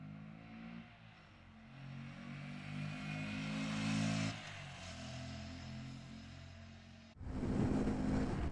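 A Honda Grom 125cc motorcycle engine runs close by with a deep, steady rumble that swells as the throttle rises, drops back, then revs hard again near the end.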